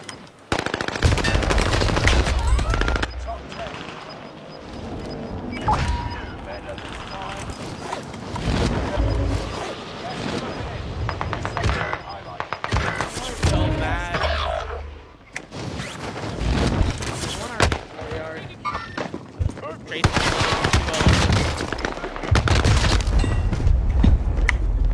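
Heavy gunfire fills a Rebirth match in a shooter video game. Loud, dense bursts of automatic fire and single shots come in clusters, with brief lulls between them.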